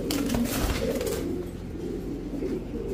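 A Makra Silver Gola male pigeon gives soft low cooing against steady background noise. A brief louder burst of rustling or handling comes early, then the coos continue quietly.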